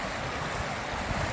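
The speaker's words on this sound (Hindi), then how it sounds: "है जी लदरू रिवर, बड़ी दूर से आती है भाई, ये बहुत ऊंचे ग्लेशियर से आती है।" The Lidder river in Kashmir's Aru Valley, glacier-fed, rushing in a steady broadband roar of flowing water that holds even for over a second with no voices.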